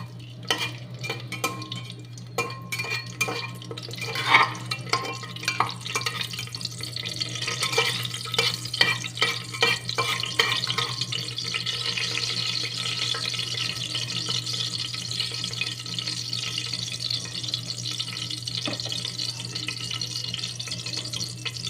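Whole spices with chilli and bay leaf sizzle in oil inside a pressure cooker while being stirred, with scraping and clinking against the metal over a constant low hum, busier early and settling into a softer steady fizz.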